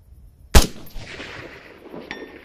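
A single long-range rifle shot fired on a shooting range by a shooter-and-spotter team: one sharp, loud crack followed by a fading rumble and a faint distant impact about a second and a half later, with no talk over it.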